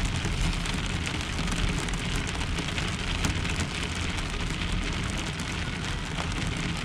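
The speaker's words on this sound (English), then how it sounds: "Just listen to the rain, I guess." Heavy rain drums steadily on a truck during a severe overnight thunderstorm, a dense continuous patter close by with no voices.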